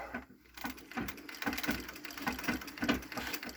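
A 120-year-old Singer treadle sewing machine runs in a quick, steady mechanical clatter of needle and gears, close by, with rhythmic ticking and rattling and no talking.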